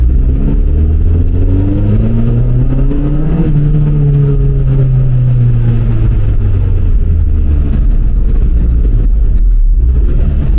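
A warm Mini fitted with a K20 VTEC engine accelerates hard over a ramp in a laneway, its engine note climbing loud and close in a steady rising rev before easing off, with no voices.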